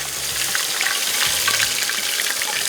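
Eggs frying in hot oil for an anda keema dish, a steady bright sizzle and crackle that runs without pause, close and fairly loud, with no talking.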